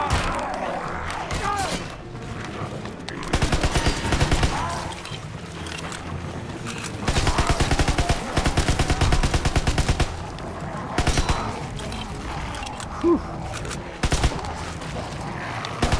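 Gunfire in a WWII video game, bursts of rapid automatic shots in repeated loud clusters separated by brief lulls, with background thuds and game ambience throughout.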